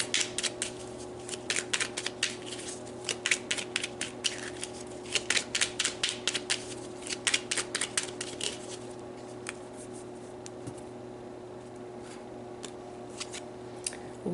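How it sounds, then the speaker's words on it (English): Chakra oracle cards are shuffled and pulled, giving a rapid run of crisp papery flicks and snaps in bursts, close and fairly quiet, with a steady low hum behind and no talking. "so let's pull some chakra cards."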